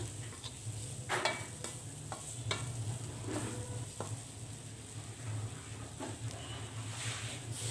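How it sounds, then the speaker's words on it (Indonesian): Carrots stir-fried in a pan for rice vermicelli, with a steady sizzle and repeated spatula scrapes and clanks against the pan, close and moderately loud, with a low hum underneath and no talking. "Kembali lagi saya oseng-oseng supaya wortelnya ini sedikit layu"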